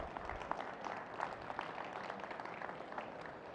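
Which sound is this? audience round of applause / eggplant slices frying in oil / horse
audience round of applause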